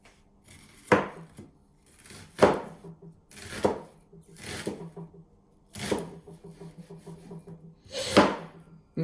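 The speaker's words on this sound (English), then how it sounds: "until you cut the whole onion" A knife cuts an onion into lines on a board in irregular strokes, each a crisp thud with a short scraping tail, close and clear with no talking between cuts.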